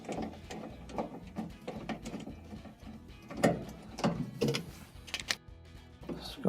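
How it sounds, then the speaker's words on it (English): A screwdriver backs screws out of the drain pump assembly of a GE washer, with irregular close ratcheting clicks and scraping knocks of metal on metal. "pull those screws out so we do not lose them"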